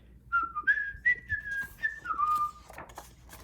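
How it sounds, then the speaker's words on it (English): A person whistles a brief melody of several bright, sliding notes, close and fairly soft, followed by a few faint clicks and rustles; no speech. "and he whistled all the way home."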